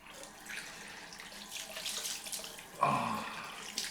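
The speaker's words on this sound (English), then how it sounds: "let's throw some cold water on the face" Cold tap water runs and splashes as it is thrown onto a face during a shave, a soft continuous gush with a sharper splash near the end, fairly quiet and close.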